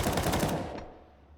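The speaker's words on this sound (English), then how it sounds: "Max is always here with 30 bullets in the A4 to spam down range" An M4A4 rifle fires in Counter-Strike during a professional match on the Nuke map: a quick rapid automatic burst, fairly faint, that ends in a short fading tail.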